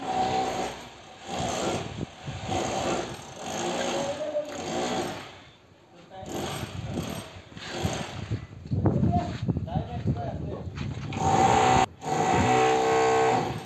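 A groove cutting machine cutting boards, a loud whining mechanical drone that rises and falls in repeated passes, with people talking over it.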